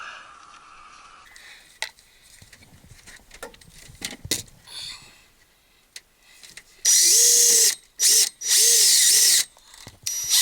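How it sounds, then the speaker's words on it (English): After some scattered clicks and handling noises, a power drill whines loudly in two bursts, a short pause between them, close by, drilling a hole during a heat pump installation. "drill a hole right there"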